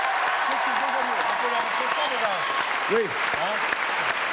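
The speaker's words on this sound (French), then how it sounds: "Applaudissements," A live TV studio audience applauds in a steady, full burst of clapping while voices chatter and exclaim briefly over it.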